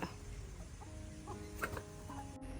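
Soft, scattered clucks from chickens a little way off, over a faint steady background hum.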